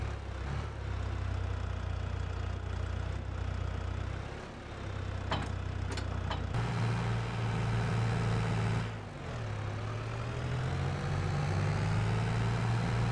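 Tractor engine in Farming Simulator 22 straining to pull a heavy slurry tanker: a steady low engine drone that shifts pitch and rises in load partway through, with brief clicks, no talk.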